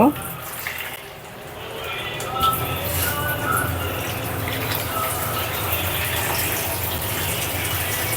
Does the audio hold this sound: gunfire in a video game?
no